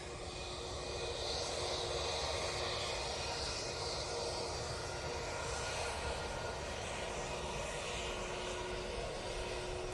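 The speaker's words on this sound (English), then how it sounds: "we've got Ryanair from Venice coming in" A Ryanair airliner arriving from Venice on approach to Manchester Airport: a loud, sustained jet engine roar with a whining tonal hum layered over broad hiss, steady and close from start to finish, no speech.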